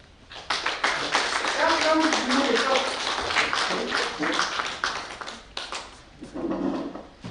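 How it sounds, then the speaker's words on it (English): An audience claps through a launch event for a Catholic Sisters vaccine campaign in Uganda, steady and fairly loud, thinning near the end with a brief pause and a final burst, while a voice murmurs faintly underneath. "Another applause."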